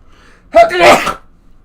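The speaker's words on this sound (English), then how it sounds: "Sorry, I sneezed." A single loud sneeze from a person, a sharp burst with a brief gasping intake, standing alone in quiet surroundings.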